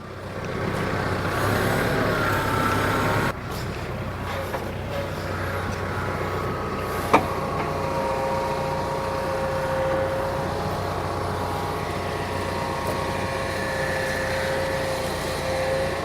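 A 1962 Dodge Custom 880 idles and creeps in reverse, a steady low engine rumble close by with a faint rising whine and one sharp knock partway through.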